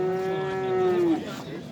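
A milk cow at an Osh livestock market gives a single long, steady moo, loud and close, which fades out into the busy market background with faint voices.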